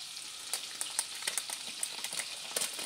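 Banana cake batter with cocoa and baking powder stirred in a pan, the spoon scraping and tapping the pan in quick irregular strokes over a steady hiss, close and fairly quiet.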